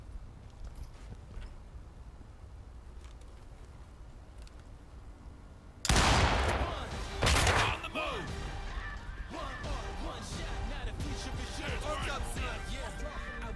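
A shotgun breach and gunfire ring out in the SWAT video game Ready or Not: two sharp, loud blasts close together midway through, after a quieter stretch, followed by busy background noise with low voices.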